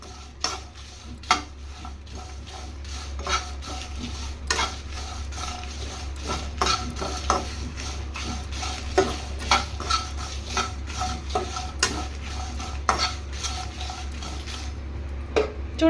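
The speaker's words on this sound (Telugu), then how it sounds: "కొబ్బరి వెల్లుల్లి రెబ్బలు కూడా వేసుకొని ఫ్రై చేసుకుందాం" Coconut pieces and garlic cloves fry over a medium flame while a spoon scrapes and clinks against the pan in irregular strokes, over a steady low stove hum and a soft constant sizzle.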